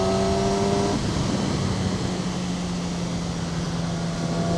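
Steady engine drone and wind rush from a 2012 50th Anniversary Yamaha R6 sport bike cruising in sixth gear at 55 mph, with a constant, unbroken roar throughout.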